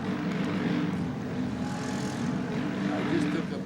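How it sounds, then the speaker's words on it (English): A Polish propeller airplane towing another plane drones overhead near Deblin, a steady, moderately loud engine hum that swells slightly midway, with faint voices in the background. "I just took a picture of the Polish airplane pulling another dummy plane"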